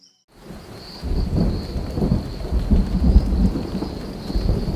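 A heavy wet-season downpour drenches the Amazon rainforest of Tambopata National Reserve, Peru, with thunder rumbling beneath dense, steady rain that swells in after a brief silent start and keeps pounding loudly throughout, no voices.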